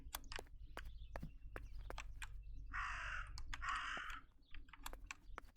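A crow caws repeatedly in the video game Martha is Dead, two longer harsh calls in the middle among rapid keyboard typing and clicking that runs throughout.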